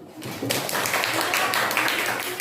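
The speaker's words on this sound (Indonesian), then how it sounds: "Tepuk tangan dulu." Children clapping in a classroom language lesson, a fairly steady burst of many small hands lasting a couple of seconds at moderate distance, with some voices mixed in.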